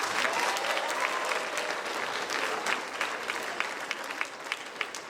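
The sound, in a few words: audience clapping during speech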